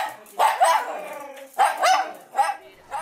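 A dog barks close by in three separate bursts, each a quick double or triple bark, with short pauses between them.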